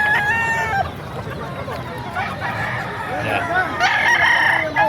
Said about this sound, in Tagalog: pakita natin mga manok dito sa Bukawi